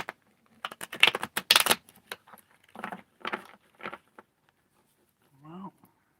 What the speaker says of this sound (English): I don't know which deck I'm using yet, but I'm going to shuffle them